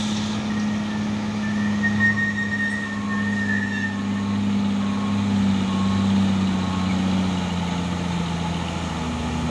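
An orange Puso 6x2 truck from Kalimantan, smoking as it climbs the Bukit Kodok hill, gives a heavy, steady low engine drone that labours with only slight pitch changes, close and loud, with no talking.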